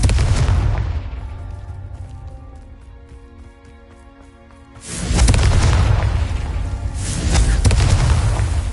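Loud booming blasts from the Confringo fire spell in Hogwarts Legacy, a heavy explosion at the start that fades, then two more powerful bursts rolling out near the end.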